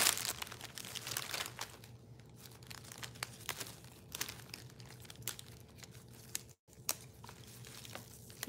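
Sheets of paper crinkle and crumple in steady rustling bursts while wedding décor in taupe, gold, white and ivory is prepped at night, with a brief silent gap near the end and no talk.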